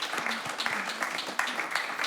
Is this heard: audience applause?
yes